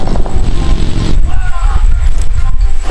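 Vehicle engine droning in a PUBG custom game, a steady low rumble throughout with game sounds on top and voices chatting over it.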